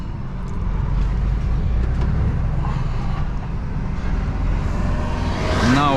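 A truck driving along a road near Vettweiss heading toward the highway gives a continuous, loud engine drone and road rumble from inside the cab, steady throughout with a faint rising tone near the end.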